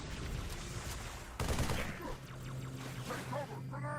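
An assault rifle firing in Halo 3 ODST on the Xbox 360, bursts of rapid automatic gunfire mixed with game sound effects, a louder volley midway, fairly close with faint voice-like game audio.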